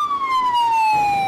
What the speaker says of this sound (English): Ambulances go in and out,